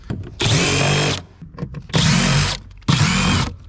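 A power screwdriver backs Phillips screws out of the bottom cover on a mk3 VW Jetta GTI, three loud whirring bursts with short pauses and faint clicks and handling noise between them.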